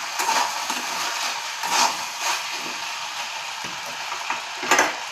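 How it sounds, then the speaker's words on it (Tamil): A spoon stirs and turns potatoes in a sizzling pan, making intermittent scraping strokes over a steady close frying hiss. "நடுப்புற கொஞ்சம் இந்த உருளைக்கிழங்கையை நம்ம கொஞ்சம் திறந்து கிண்டி விட்டுக்கலாம்."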